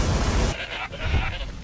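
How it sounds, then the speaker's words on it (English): A goat bleats in the video game Far Cry 3, with a loud burst of low noise at the start, then a nearby wavering bleat over the game's background. "Finally, some goats."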